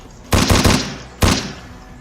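Gunshots in a first-person shooter game, a quick cluster of three loud close shots followed by one more after a short pause, each ringing briefly.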